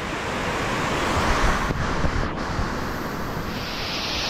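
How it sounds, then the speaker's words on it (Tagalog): A strong river current swollen by rain rushes past, a steady loud roar of churning water mixed with wind buffeting the microphone, with no speech. "Lakas ng agos, naulan kasi, kaya ganyan ang kulay ng tubig."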